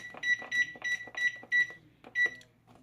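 An oven timer beeps as it is set for baking homemade dog treats, a run of six short, sharp button beeps in quick rhythm, close and clear with no talk.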